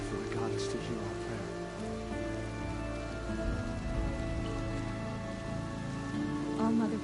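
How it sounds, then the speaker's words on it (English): Steady rain patters across a surface in the video game Horizon Zero Dawn, a dense continuous wash of drops with faint low game ambience beneath and no voices. "More rain. My boots will get damp."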